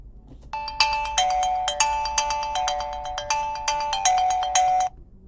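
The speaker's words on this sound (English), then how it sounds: "Okay, let's call again. Then let's answer it here on the smartwatch." An incoming Bluetooth call rings on an Oraimo Watch 6 smartwatch: a bright, repeating electronic ringtone melody, loud and close, looping steadily for about four seconds before cutting off abruptly.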